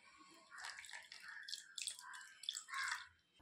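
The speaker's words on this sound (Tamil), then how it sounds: "கொஞ்சம் ஹாட் வாட்டர் சேர்த்து மிக்ஸ் பண்ணிக்கலாம்" Hot water poured into rice flour for jackfruit kolukattai dough: close, uneven splashing and trickling in several short bursts over about three seconds, with no voices.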